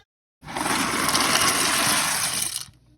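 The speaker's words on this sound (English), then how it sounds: "what I like to do is add a ladle full to my pasta water" A ladleful of oxtail soup broth is poured into a pot of pasta water, giving a steady splashing gush that starts abruptly, holds for about two seconds, then tapers off. No one speaks.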